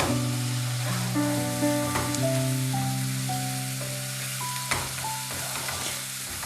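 Lahori bong paye fry in oil in a pan, a continuous soft sizzling hiss lying under louder background music throughout.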